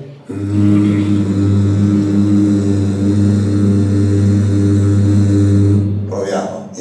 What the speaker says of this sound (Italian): Proviamo a fare solo la M, prima la faccio io, poi la facciamo insieme.